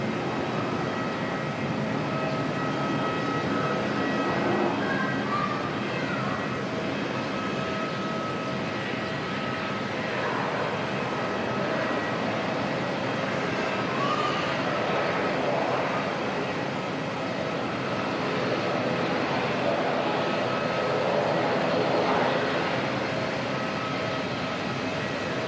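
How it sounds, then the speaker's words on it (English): A steady, rumbling helicopter drone holds throughout, broad and continuous, as it passes overhead at a distance near Auckland Airport. "Helicopter going over by the sounds of it."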